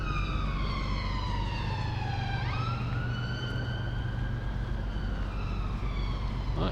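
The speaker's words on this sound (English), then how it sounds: "Here's the sirens again." Emergency vehicle sirens wailing through a city centre near a waterfront car park, a rising and falling tone that sweeps down then climbs again over a constant low traffic rumble, fairly loud and continuous.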